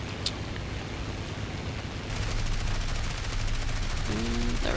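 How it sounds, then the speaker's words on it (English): Aircraft guns strafe ground vehicles in the War Thunder video game: a dense, continuous rattle of rapid gunfire over a steady engine roar, growing slightly louder partway through. "I'm just going along and gonna strafe these little ground vehicles"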